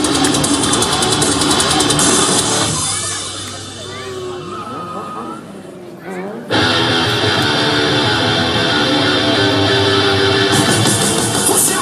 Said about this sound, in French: Alors là c'est du rétrogradage de boîte. Lâchez l'embrayage.